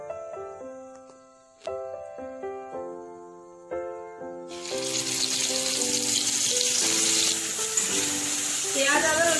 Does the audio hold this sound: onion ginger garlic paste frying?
yes